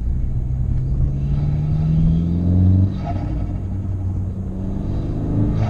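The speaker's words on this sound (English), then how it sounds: "It just gives it that raw turbo noise, you know, like the rally cars, the old school rally cars have" An Abarth car engine with a turbo runs at close range, a loud, steady low rumble that swells slightly as it revs before settling back to an even drone, with no talking.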